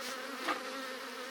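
Bees at their hive produce a soft, continuous buzz, close and steady over the short stretch, with one brief louder swell midway and no talking.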